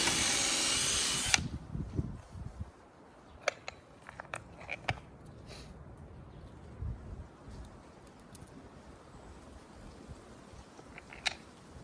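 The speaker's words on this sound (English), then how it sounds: "so I'm just going to pre-drill and then I fasten them up to the one side of the legs here" A power drill pre-drills holes in scrap wood for a brooder frame, one brief whining burst at the start followed by quieter clicks, taps and handling knocks close by.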